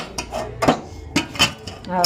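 Metal pot and utensils clink and scrape in a kitchen while moong bean gravy is ladled into a bowl, several short close knocks and taps over a couple of seconds.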